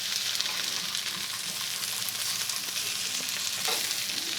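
Squid sizzles steadily in a hot frying pan, a dense, even crackle of oil that stays loud and close throughout with no voices.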